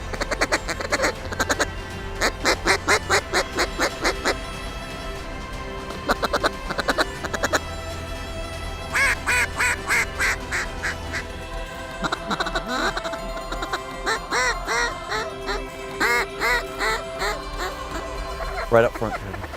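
Flocks of ducks and geese gather before migrating south in cold weather, calling in bursts of rapid, repeated quacks and honks, some close and loud, with people talking quietly over them.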